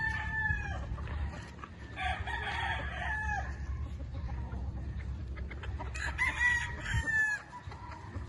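Kelso gamefowl rooster and hen at a game farm, repeated crowing and clucking close by, loud calls in bursts near the start, middle and end over a low rumbling background, with no talking.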